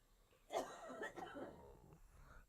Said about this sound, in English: Here comes a cough.